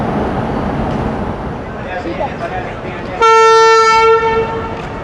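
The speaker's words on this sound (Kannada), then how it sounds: "ಸೊ ನೋಡಿ ನಮ್ಮ ಟ್ರೈನ್ ಹೊರಡ್ತಾ ಇದೆ" The Amravati Express (17226, Hubballi) rumbles with a murmur of voices nearby, then a loud, sustained horn blast partway through as the train pulls away.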